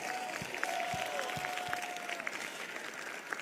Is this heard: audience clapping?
yes